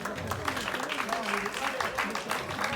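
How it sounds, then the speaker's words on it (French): Applause from the crowd at an amateur boxing championship bout in Marseille, clapping mixed with murmuring voices and an announcer's tone underneath, brief and somewhat busy. "Un applaudissement s'il vous plaît pour ces deux boxeurs."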